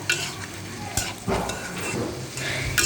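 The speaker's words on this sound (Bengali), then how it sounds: "এখন আমি এটাকে কষিয়ে নেব ভালোভাবে কষিয়ে নিচ্ছি" Chili powder, turmeric and cumin paste sizzle and fry in a pan while being stirred, a steady close hiss with scraping stir strokes recurring throughout.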